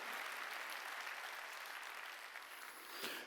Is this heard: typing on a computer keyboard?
no